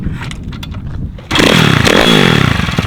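A 50cc motorcycle tuned to triple its power fires up after a brief rustle, then screams into sharp, high-pitched revving that climbs quickly and stays loud and close, with a raspy two-stroke buzz.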